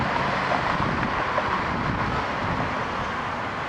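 A Korean Air Boeing 777-200ER rolls for takeoff on runway 05 at Toronto Pearson, its steady, loud broadband engine roar sustained throughout with wind buffeting the microphone.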